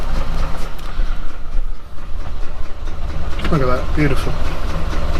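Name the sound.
Morris Minor engine running at a rough idle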